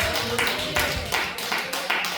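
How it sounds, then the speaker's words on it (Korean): A church congregation applauds in rhythmic bursts of clapping, moderately loud, with voices mixed in. "우리 박수 한번 합시다."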